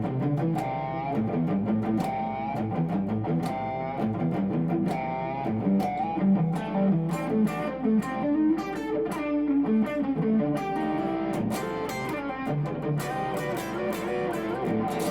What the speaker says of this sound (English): instead of the full drive, I've substituted it for a rat pedal for a little bit more distortion